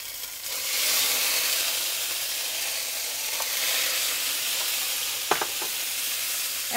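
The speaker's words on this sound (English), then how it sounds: "So once those garlic cloves get a little color on them, we're going to add the tomatoes." Tomatoes tumble into a pan of sizzling garlic cloves for an Italian zuppetta, a steady broad frying hiss filling the pan with a few sharp clatters of utensil or ingredients near the end, no voices.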